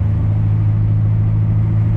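Chevrolet Camaro SS V8 with Badlanz exhaust cutouts cruising slowly in 4th gear, a steady loud low rumble that holds constant throughout with no talk.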